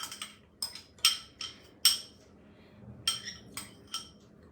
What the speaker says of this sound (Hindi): सबसे पहले मैं मिक्सी के जार में बॉइल्ड कॉर्न्स डाल रही हूँ।